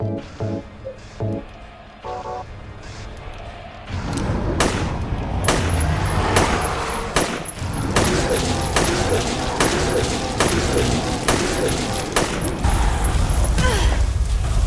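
In Silent Hill 3, a boss takes a barrage of gunfire, with sharp shots cracking in rapid, irregular bursts over a dense, noisy game soundscape, and a player talks intermittently beneath.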